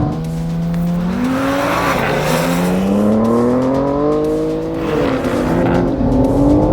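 BMW M3 and Audi RS 5 launching side by side in a 400m drag race, loud engine note climbing steadily in pitch through second gear and bouncing off the rev limiter, continuous roar with no talk.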